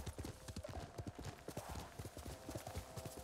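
Horse hooves clip-clop in a rapid, steady rhythm during a ride in Ghost of Tsushima, the footfalls quiet and even with soft ambient game sound underneath.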